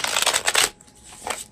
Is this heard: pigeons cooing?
no